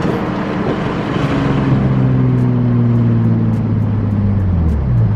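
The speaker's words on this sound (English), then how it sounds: "I was just supposed to start the car and let it run and idle for a little bit." A BMW M340i engine drones steadily under load, its low harmonic hum sliding gradually downward in pitch as the car cruises, loud and close throughout with no one talking.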